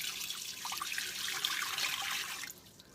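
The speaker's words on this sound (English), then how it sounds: "I'm just going to put enough water till it gets up to the bottom of the rack" Water pours steadily into a 14-quart Go Wise pressure cooker fitted with a rack, a close, continuous splashing stream that tapers off near the end.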